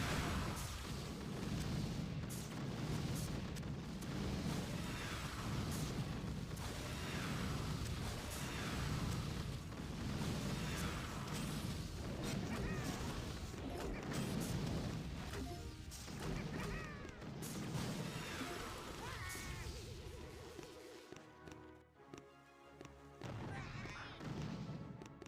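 Explosions and crashing impacts from the mobile game Boom Beach as a mortar is destroyed, dense continuous booms and thuds with rapid bursts throughout, fading near the end.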